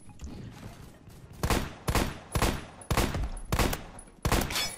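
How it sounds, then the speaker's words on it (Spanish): Rapid bursts of rifle gunfire from the Phantom Forces shooter, with about six sharp, loud shots or short volleys at irregular intervals over a soft background. "ese sonido de ese headshot es"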